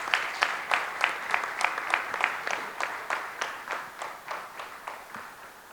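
A modest audience at an HR panel discussion claps to welcome a panelist, with slow, evenly spaced individual claps that stand out clearly and then fade over several seconds.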